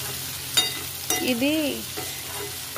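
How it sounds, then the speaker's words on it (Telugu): Onions and chicken frying in plenty of oil make a steady close sizzle, broken by a few scraping stirs of a spatula in the pan; a voice speaks briefly. "సో మంచిగా ఫ్రై చేసుకుందాం అన్నమాట, బాగా ఫ్రై అయిపోవాలి"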